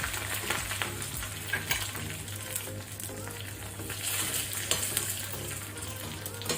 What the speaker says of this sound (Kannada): ಉರದ್ ದಾಲದ್ದು ಕಲರ್ ಚೇಂಜ್ ಆಗೋ ತನಕ ಸ್ವಲ್ಪ ನಾವು ಫ್ರೈ ಮಾಡ್ಕೊಳ್ಬೇಕು